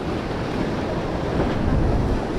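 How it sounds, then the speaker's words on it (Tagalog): Steady, dense wash of strong ocean surf and wind roaring without pause, loud and close, with no voices. "Lakas ng alon no?"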